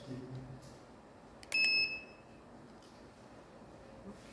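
A short burst of high electronic beeps from a circuit triggered by an RF remote control rises briefly out of a quiet room hum, then fades back to low background noise.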